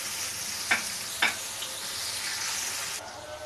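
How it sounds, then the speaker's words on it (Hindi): Peas and mixed vegetables fry in a pan, a steady close hiss of sizzling broken by two brief knocks of a utensil early on. "इसमें हम मटर डालेंगे, मटर को भी फ्राई कर लेंगे"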